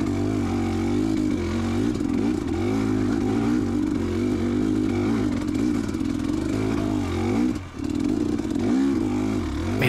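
A dirt bike ridden off-road on rough trail at Prospect OHV, the close engine buzzing and revving continuously with clattering and scraping, and a brief dip in engine noise near the end.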